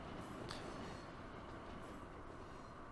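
A train rolls steadily into a station, a continuous broadband rumble of wheels and carriages with faint squeal, sustained and fairly close throughout, with no talking.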